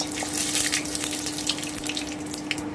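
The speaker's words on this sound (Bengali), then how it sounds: "এবারে আমি কালো জিরা শুকনো লঙ্কাটা তুলে দিলাম আমি একটু ভেজে নিচ্ছি এক মিনিট" Nigella seeds and dried red chili fry in hot oil, giving a steady close hiss and sizzle with scattered small crackles and a faint constant hum beneath.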